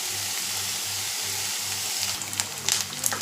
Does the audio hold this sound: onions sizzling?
yes